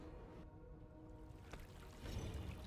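Flowing water in the video game Ruined King, a faint, steady trickle and gurgle that swells slightly toward the end.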